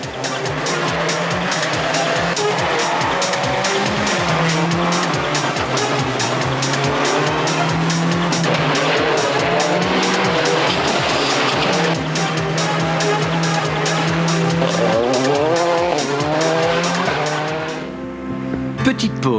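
Citroën Xsara WRC rally car driven hard on a test run by Sébastien Loeb, a loud steady engine roar with shifting pitch and tire noise that eases off near the end.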